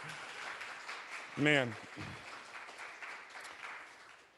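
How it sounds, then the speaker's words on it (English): Steady audience applause fills the space at a choir finale, with a voice briefly speaking over it near the start. "Give a big round of applause"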